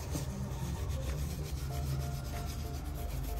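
Cloth wiping and rubbing a sneaker during cleaning, a continuous close scrubbing and rasping friction with slight rhythmic strokes and no talk.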